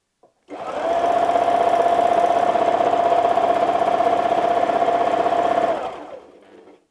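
A sewing machine runs free-motion quilting stitches through fabric, a steady close hum with a fast needle chatter that starts, holds evenly for about five seconds, then winds down.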